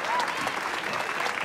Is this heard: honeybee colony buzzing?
no